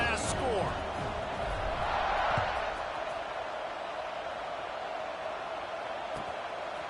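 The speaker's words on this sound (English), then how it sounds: "this crowd is buzzing after that last score" A football stadium crowd in a college football video game against Florida keeps up a steady, broad roaring buzz after a score, with a few faint thumps early on.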